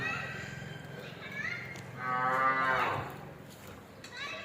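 A Hallikar cow on a farm near Bengaluru moos once in a long, drawn-out call. It sits over light background chatter and outdoor ambience.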